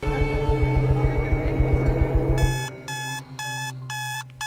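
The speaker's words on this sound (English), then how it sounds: "got up and turned off the alarm clock" An alarm clock rings in a steady run of rapid electronic beeps over a low hum, then switches to a pulsed pattern of four bursts of high beeping, close and loud.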